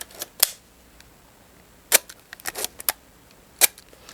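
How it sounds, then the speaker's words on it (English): A Canon 7 rangefinder film camera fires its shutter several times in sharp, fairly quiet clicks, spaced a second or two apart in a quiet room. "The Canon 7 shutter is not loud, but I will say it is louder than an M3, but quieter than any SLR."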